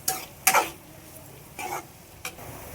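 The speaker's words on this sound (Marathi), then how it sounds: "चांगलं तळून घेऊया आपण" A ground paste of raw peanuts, green chili, garlic and cumin fries in a pan, heard as four brief, separated scraping strokes of a spatula against the metal, with only a faint background hiss between them.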